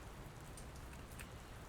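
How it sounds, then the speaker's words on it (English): Steady rain falling in the video game Dr. Langeskov, a constant faint hiss of drops with no other sounds. "I don't think it's supposed to still be raining"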